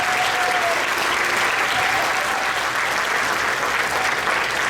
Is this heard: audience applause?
yes